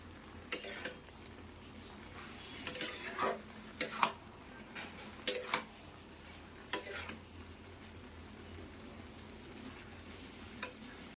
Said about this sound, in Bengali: এবার এই মশলাটাকে এবার মিশিয়ে দেবো।